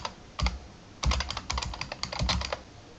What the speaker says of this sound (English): we can start typing straight away